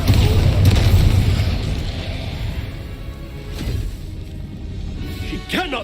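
A blasting spell goes off in a wizarding video game, a heavy low boom that fades into rumbling debris with a sharp crack near the end.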